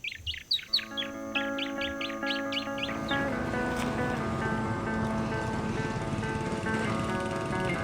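Birds sing in a cacao plantation reserve, with a rapid series of bright repeated chirps near the start, then a steady bed of layered tonal calls and hum, moderately close and continuous.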